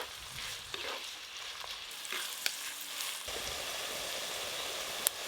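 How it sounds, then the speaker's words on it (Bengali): Chopped onions fry in a pan with a faint, steady sizzle. A few soft clicks and stirs come through, and no voice is present. "প্রথমে আমি পেঁয়াজ কুচি একটু ভালো করে লাল লাল করে ভেজে নেব"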